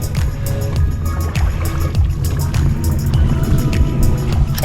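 Oars row an inflatable boat across open water while its outboard motor sits unused, giving a steady wash of water and wind with faint rhythmic knocks and splashes from the strokes throughout.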